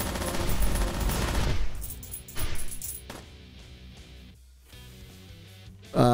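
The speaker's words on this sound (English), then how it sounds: "God damn it, they are shooting." Enemy shooters fire on the player in the video game Metal Ascension, a dense, loud burst of gunfire for the first couple of seconds, then sporadic shots and clatter over a game soundtrack, with another loud hit at the end.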